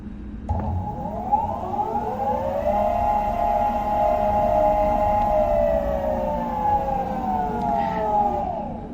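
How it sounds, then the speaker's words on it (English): A Meepo electric skateboard motor whines right at the microphone, a loud tonal hum that spins up, holds steady for several seconds, then winds down. "I'm putting the microphone right up to the motor"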